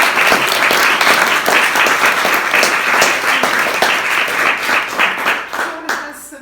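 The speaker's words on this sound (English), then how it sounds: "so can I have a big round of applause?" A lecture audience on mudlarking and a Roman amphitheatre gives loud, sustained applause, crowded with close individual claps, which tapers off and fades out in the final second.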